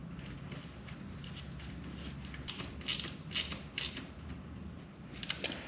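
A bolt with Loctite is threaded into a Yamaha FZ water/oil pump, giving faint, close ratcheting clicks in a quick irregular series over a low background hum.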